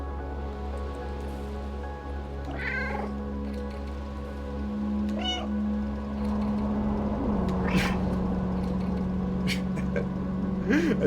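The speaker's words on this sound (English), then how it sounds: "I can just still meow." Cat meows from the video game Stray, a few short high calls scattered over a steady background hum with some faint rain-like patter, while a person talks quietly now and then.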